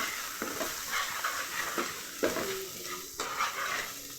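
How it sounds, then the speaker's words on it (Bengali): Onions fry with spices in a pan for prawn curry, a moderate sizzle broken by several distinct stirring scrapes and spoon knocks spaced through the clip. "পেঁয়াজটা একটু কষে নেব মশলা দিয়ে"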